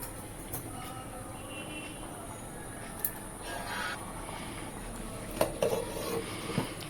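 A spoon stirs crab curry in a pot just after water is added, making soft, faint scraping and swishing sounds with a few light clinks near the end.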